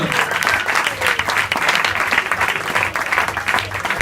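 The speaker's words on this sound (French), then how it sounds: "on peut applaudir bien fort les circassiens et Karline" An audience applauds circus performers at a show, a steady, dense round of clapping lasting about four seconds with no break, fairly loud and close.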